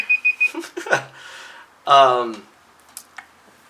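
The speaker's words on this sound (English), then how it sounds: "I'm going to go ahead and stop the timer" A brief electronic timer alarm beeps a few times at the start, followed by a short burst of speech and some faint clicks.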